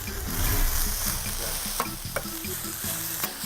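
Steady sizzling and crackling of pork neck chops frying on a hot flat plancha griddle, close and continuous, with a few light scraping taps.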